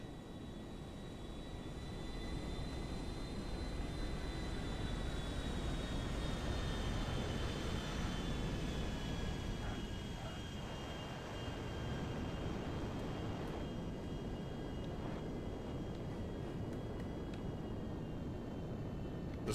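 A fighter jet in Grand Theft Auto V sends out a steady, loud engine roar with a broad rumble and a faint high whine that slowly drifts in pitch, continuous and without talk.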